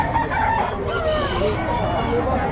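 Rooster crowing amid the bustle of the Bocaue chicken market, a drawn-out crow heard close over a steady babble of voices and clucking fowl.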